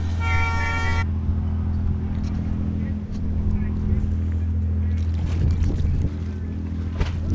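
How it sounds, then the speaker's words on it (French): A passing tourist boat off Vathi, Ithaca gives one short horn toot at the start, over a steady low engine rumble, wind and water noise, with a voice speaking faintly underneath. "Petit coup de klaxon."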